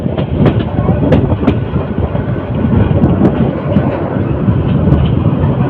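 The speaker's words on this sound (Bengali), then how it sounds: "মৃত্তিকান্দা রেল স্টেশনের এক নম্বর প্ল্যাটফর্মে প্রবেশ করেছে" The 35 Titas Commuter train rolls into platform one at Methikanda railway station in Raipura, a loud close rumble of wheels on rails with sharp clicks from the wagons.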